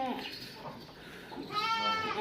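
A goat that has just given birth lets out a bleat near the end, following a stretch of low background noise and quiet talk.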